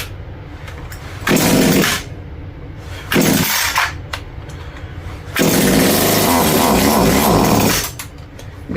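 A Farmmac F2511 chainsaw, a clone of the Echo 2511, revs in three loud bursts over a rough, uneven idle, with the longest burst held for about three seconds. Its carburetor is out of adjustment.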